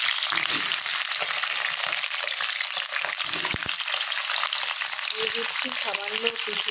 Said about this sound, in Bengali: তেলটা গরম হয়ে গেছে তেলের মধ্যে এখন আলুগুলো দিয়ে দিচ্ছি